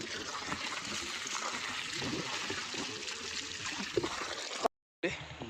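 Water runs steadily from a tap over hands being washed, a continuous close splashing rush that cuts off abruptly near the end and then resumes briefly.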